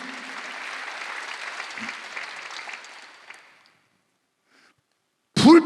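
A church congregation applauds steadily during a Sunday service for about three seconds, then the clapping fades out into silence before a short loud burst at the end.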